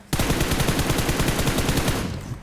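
Rapid automatic gunfire in PUBG Mobile, a steady stream of sharp shots rattling on without pause, loud and close.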